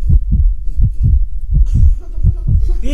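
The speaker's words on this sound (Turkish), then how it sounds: "Efektlerde kalp atışı koyacağım hadi." A loud heartbeat sound effect gives a steady run of deep, thudding double beats, with a fainter wash of other sound joining in the second half.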